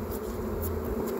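Honey bees buzzing around an open beehive during autumn honey collection, a faint continuous drone with a low hum, no talking.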